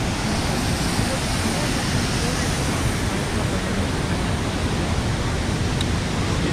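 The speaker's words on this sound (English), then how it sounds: "On the bridge that overlooks the falls." A waterfall in northern New Jersey rushes below a bridge overlooking the falls, a loud, steady, unbroken hiss and roar of falling water with no pauses.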